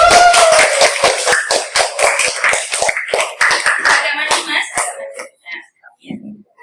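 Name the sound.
applause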